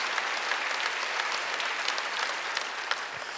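A church congregation applauding during a Wednesday worship service: a steady, fairly soft wash of many hands clapping, even in texture and heard without talk.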